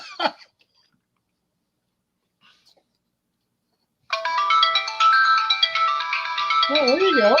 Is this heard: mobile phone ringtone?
yes